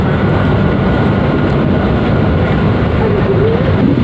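Taksaka passenger train overtaking the Lodaya train, heard from inside the carriage as a loud, steady low rumble of wheels and rails that carries through the whole stretch without letting up, with faint squeals near the end.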